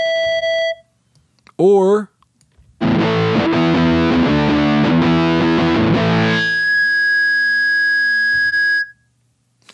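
Electric guitar with synthetic feedback from the Blue Cat AcouFiend plugin: a brief squealing bend, then a distorted chord that blooms into a loud, piercing sustained feedback tone with wobbling pitch before cutting off.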